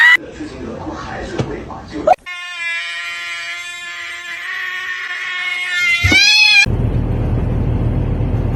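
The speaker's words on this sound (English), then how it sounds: "Seriously, this cat's a little stupid." A cat lets out a long, drawn-out meow that wavers and rises near the end, loud and close, with muffled voices and noise before it and a burst of other sound after.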